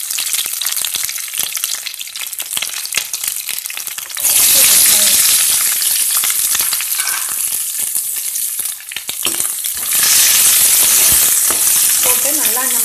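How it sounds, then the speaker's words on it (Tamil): Green chillies sizzle loudly in hot oil in a pan for cabbage poriyal, a continuous close hiss that swells sharply as they hit the pan, with stirring scrapes throughout. "போட்டு நல்லா இந்த மாதிரி ஃப்ரை பண்ணிக்கலாம்"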